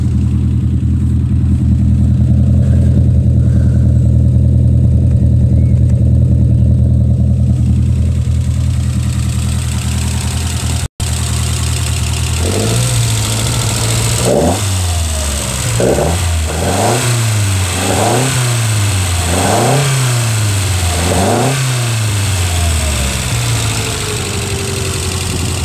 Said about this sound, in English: It helps you hear the engine running.